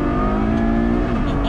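A Ferrari GTC4 Lusso V12 revs hard close by as it changes gear, a loud sustained engine howl whose pitch holds steady, then dips and climbs again near the end, with no talking.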